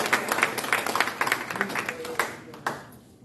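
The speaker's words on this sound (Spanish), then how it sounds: "dele un aplauso" Congregation clapping in a church service, a burst of scattered applause with overlapping voices that tapers off toward the end.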